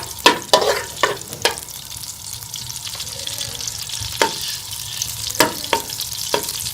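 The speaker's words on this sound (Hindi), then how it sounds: "इसके अंदर मैं ये प्याज शामिल कर लूंगी और इसको हम गोल्डन होने तक फ्राई कर लेंगे।" Sliced onions sizzle steadily in hot ghee in a kadai, a constant frying hiss broken by several sharp clinks and scrapes of a spoon stirring against the metal pan.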